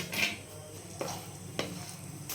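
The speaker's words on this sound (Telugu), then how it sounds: "ఆయిల్ వేడెక్కాక ఇందులోనే మినుములు, అలాగే కొద్దిగా పల్లీలు, కొద్దిగా పచ్చిమిర్చి వేసి వేయించుకోవాలి." Urad dal, peanuts and green chillies frying in hot oil, with a soft steady sizzle and a few sharp clinks of a spoon stirring the pan.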